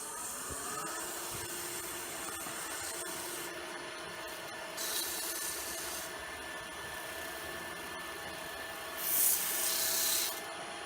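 Continuous scratchy rubbing of sandpaper worked by hand on plastic, steady strokes with a couple of louder, brighter passes, a faint machine hum underneath.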